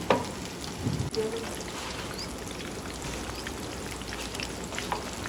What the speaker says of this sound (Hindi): ये हमारे कबाब जो हैं वो फ्राई हो रहे हैं।